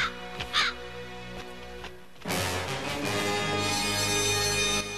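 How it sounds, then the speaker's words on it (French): A crow caws a few times in the first half second, followed by a brief quiet stretch, then a dense sustained musical bed swells in and continues to the end. "Ah mon Dieu, un corbeau!"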